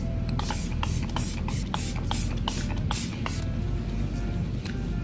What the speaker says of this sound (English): I'm gonna spray this because it gives like this beautiful glow